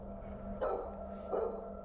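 A dog gives two short barks a moment apart, fairly faint and distant over a steady low hum.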